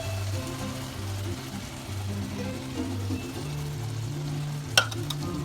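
A cup of wine added to a pan of lasagna sauce simmers with a soft, continuous sizzle and bubbling, with one short sharp clink from a utensil toward the end.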